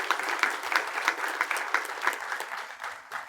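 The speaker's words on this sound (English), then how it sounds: "Now, please join me in applause." An audience at a 2022 academic convocation applauds, a moderately loud spread of rhythmic clapping that slowly thins and fades toward the end.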